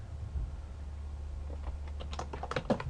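Typing a command on a computer keyboard during network switch configuration: a quick run of soft key taps building over the last second and a half, close, over a steady low hum.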